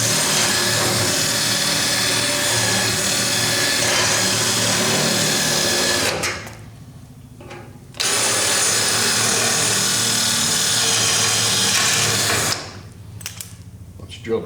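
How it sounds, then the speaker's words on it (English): A power drill drilling the head off a rivet whines loudly and steadily, stops briefly, then runs again at length before cutting off near the end. "You'll be able to just drill the head off of it,"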